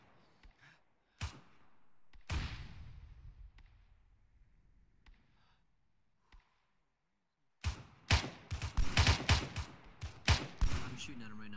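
Gunfire in the Arma military sim: scattered single sharp shots and thumps at first, then a dense burst of rapid rounds and impacts in the last few seconds, loud and close.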